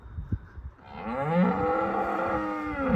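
Farm cattle let out a long, drawn-out moo close by, following a few soft thumps and rustles, with the low bellow holding steady to the end.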